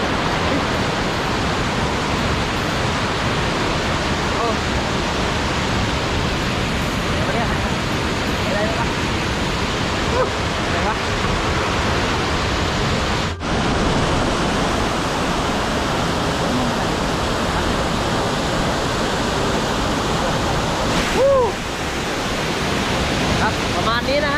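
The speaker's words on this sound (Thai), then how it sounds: "ตามดูน้ำตกสองนะครับ" Soi Sawan waterfall in Ubon Ratchathani, Thailand, roars as a steady, dense wash of falling water that fills the whole scene without pause, with possible faint voices beneath it.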